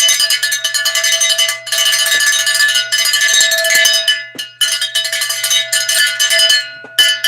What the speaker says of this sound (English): That means we ring the old cowbell.